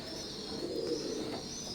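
Teddy pigeons coo softly and close by, a low continuous murmur against a faint steady background hiss.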